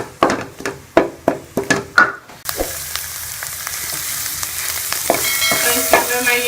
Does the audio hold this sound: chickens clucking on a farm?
no